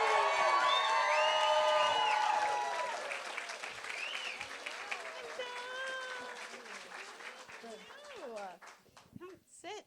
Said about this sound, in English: Let's give Gigi a big round of applause.